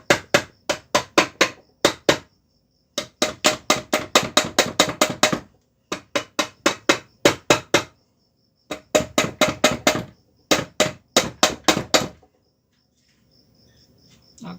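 Rapid bursts of loud hammer strikes on a Honda Biz C100 motorcycle engine being taken apart, close up, coming in fast clustered runs with short pauses between groups.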